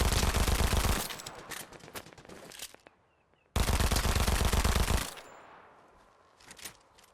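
Shotgun fire in the video game Fortnite, loud dense bursts of gunfire lasting about a second each, with a sharp break between two heavy volleys and quieter scattered shots trailing off, no talking.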